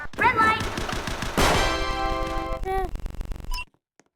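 Rapid bursts of Roblox video game gunfire in a Squid Game mode mixed with electronic tones and clicks, loud and busy, cutting off abruptly into silence.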